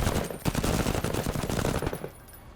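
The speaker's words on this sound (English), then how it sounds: "You can fire on these," Rapid automatic gunfire from the tactical video game MENACE rattles out in a dense, loud burst for about two seconds, then cuts off and fades into quieter game ambience.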